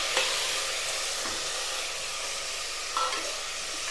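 Onions and tomatoes sauté in a pan with a steady, moderate sizzle and a couple of brief stirring scrapes, nearby and without talk.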